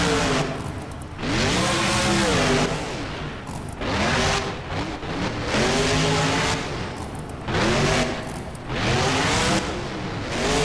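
A monster truck engine in the BeamNG driving game roars and revs repeatedly during a freestyle run, with rising and falling pitch sweeps in several loud, sustained bursts and brief lulls between them.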